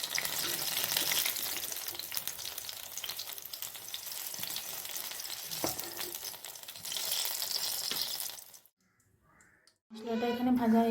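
A spice mix of nuts, cumin, cloves and cardamom fries in a pan, giving a loud, steady sizzle for about eight seconds. It drops to near silence, then a voice begins to speak.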